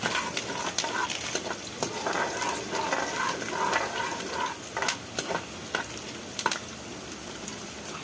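Mustard seeds fry in hot oil for an Andhra sambar tempering, giving a close, continuous sizzle with scattered sharp crackles and pops and occasional stirring scrapes, with no voices.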